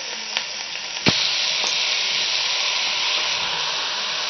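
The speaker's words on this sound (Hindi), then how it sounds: "अब हम इसमें प्याज ऐड करेंगे और अच्छे से फ्राई करेंगे भिंडियों के साथ।" Chopped onions are frying with okra in a pan for restaurant-style masala bhindi, a steady close sizzle and hiss with a couple of sharp clinks of a spoon stirring at the start.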